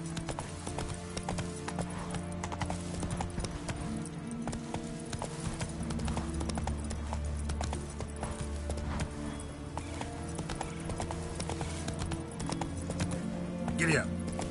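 Hooves clip-clop steadily under a horse's gallop in The Witcher III, a continuous rhythmic thudding beneath game music and a voice urging the mount on.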